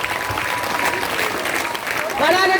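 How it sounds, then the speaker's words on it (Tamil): A crowd at a primary school sports day in Tamil Nadu claps steadily and loudly throughout, with a voice carrying over the applause near the end. "கரங்களை தட்டி நம் மாணவ செல்வங்களை ஊக்குவிப்போம்."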